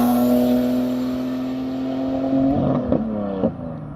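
A car engine roaring past at close range, a loud steady tonal drone that slowly shifts in pitch as it goes by, ending with a few short throttle blips and pops.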